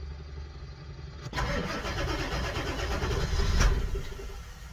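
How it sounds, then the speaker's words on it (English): A diesel van engine cranks after its glow plugs have warmed, a loud rough churning that begins abruptly after a quiet idle-like hum and carries on for several seconds, swelling near the end without clearly catching. "Let's see if it starts up good. Let the glow plugs go."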